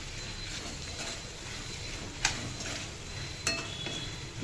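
Steady scraping and stirring of chickpeas in a pan under a constant sizzle-like hiss, with two sharp metallic clinks of a utensil against the pan.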